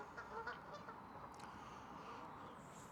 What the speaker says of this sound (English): All geese.